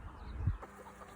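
Backyard egg-laying hens give a few soft, quiet clucks, one slightly louder low cluck near the middle, against a faint outdoor background.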